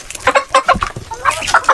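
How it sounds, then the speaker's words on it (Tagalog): Native chickens on a farm, one brooding under a sheet of plywood, give off a string of close clucks and short squawks at an uneven pace, with no talk over them. "Sa ilalim ng plywood mga ka-farmers, mayroong naglilimlim. Native na manok."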